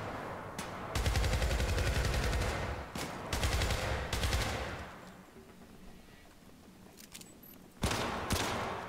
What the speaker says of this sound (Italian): Ci sparano